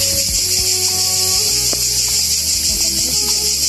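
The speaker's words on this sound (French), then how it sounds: "c'est vrai qu'on est plutôt gâté par les cigales" Cicadas drone loudly and steadily outdoors in Montenegro, a dense high-pitched buzzing that fills the whole stretch without pause, with faint low background sounds beneath.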